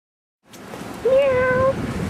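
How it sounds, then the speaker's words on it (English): A single close, drawn-out cat meow rises and falls over low background noise. "That's the cat."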